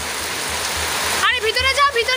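Heavy rain pours down steadily as a dense, continuous wash, with a voice speaking over it in the second half.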